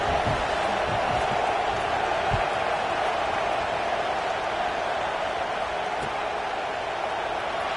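A football stadium crowd produces a steady, dense roar of murmur and noise that continues unbroken for several seconds, distant and diffuse, with no clear cheering peaks.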